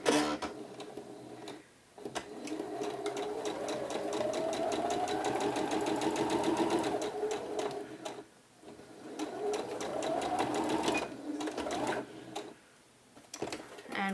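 A sewing machine stitches a quarter-inch French seam at the shoulder of a blouse, running fast and steadily in long continuous bursts with a few brief stops between runs, close up.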